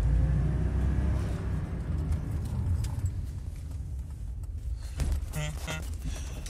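Turbocharged BMW E34 with an M50B25 straight-six pulls hard under boost, a loud, steady low engine roar filling the recording with a brief surge near the end and no talk.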